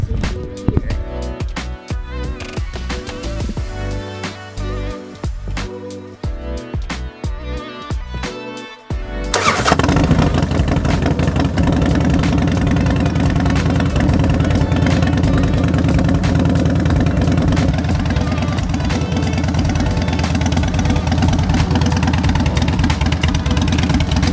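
A Harley-Davidson motorcycle with staggered Big Shot exhaust fires up after a few seconds of music, then settles into a loud, steady, rumbling idle that continues to the end.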